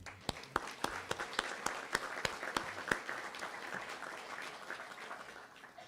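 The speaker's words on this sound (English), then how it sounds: "Ladies and gentlemen, one more round of applause for Woots Rober." An audience at a Wall of Pride induction ceremony claps for an inductee, with sharp, distinct claps over a fainter spread of applause that gradually thins out.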